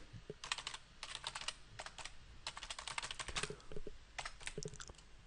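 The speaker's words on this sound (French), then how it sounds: "je tape mon mot de passe" Bursts of quick keystrokes on a computer keyboard as a password is typed, close and fairly loud, with short pauses between runs of clicks and no talking.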